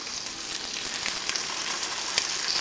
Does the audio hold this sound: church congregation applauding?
no